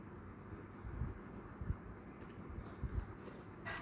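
HTML code being typed on a computer keyboard: a quiet sequence of irregular key taps with a few firmer keystrokes, close and steady over a low background hum, no talking.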